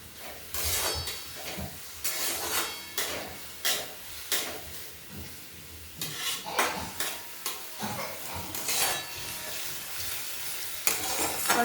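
Onion sautéed and stirred in a steel kadhai, a steady close sizzle broken by repeated scraping strokes of a spoon against the metal pan.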